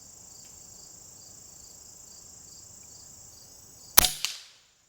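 A single sharp, loud crack from an AirForce Talon P .25 air pistol with an upgraded tank, fired near the end over a steady background of chirping crickets, followed by a quick echo and then silence.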